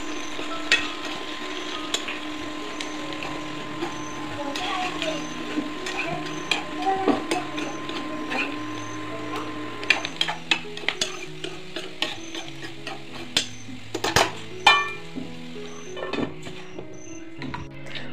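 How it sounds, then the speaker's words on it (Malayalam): Beans mezhukkupuratti stirred in a covered pan, a soft continuous sizzle with repeated scraping and clacking of a spoon against the pan, growing busier toward the end, close and moderate, no talk. "ഇടയ്ക്കിടയ്ക്ക് ഇത് തുറന്ന് ചെറുതായിട്ടൊന്ന് ഇളക്കി കൊടുത്ത ശേഷം മൂടി വയ്ക്കാം."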